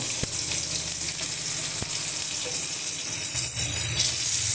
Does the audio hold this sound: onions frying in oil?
yes